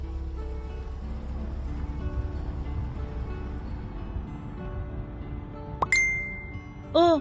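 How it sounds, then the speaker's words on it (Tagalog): A cellphone chat notification chimes twice inside a moving car, two short bright tones rising over a steady low road rumble. "Oh, may nagchat sa cellphone mo."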